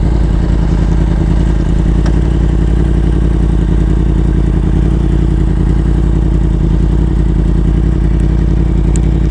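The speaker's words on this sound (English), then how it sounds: "Jesus, this bike sounds good." A Yamaha R1 sport bike engine hums steadily and loudly throughout, with a low, even drone and a mechanical clatter close to the rider, and no talking.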